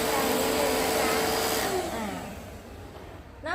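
An Electrolux WQ71-2BSWF handheld stick vacuum whirs loudly at a high pitch, then its motor winds down and fades toward the end.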